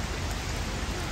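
Rain falls outdoors on a New York City street after a storm, a steady, close hiss of drops hitting surfaces that fills the short moment without any voices.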